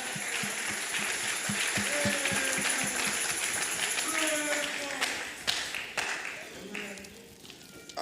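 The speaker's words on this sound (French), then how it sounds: "Let's clap for the Lord Jesus Christ." Church congregation at an Apostolic Faith evening service in Lusaka, Zambia, clapping for Jesus in a quick, rhythmic patter that slowly thins out, with voices and scattered shouts mixed through the clapping.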